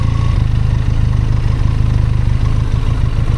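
A warm trail motorcycle idles close by, its steady, rapid low-pitched thrum pulsing evenly and loudly with no voices over it.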